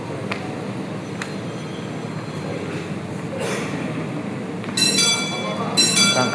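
The KA Sangkuriang passenger train sets off with a low, steady rolling rumble heard from close by, building slightly before sharp metallic squeals cut in near the end.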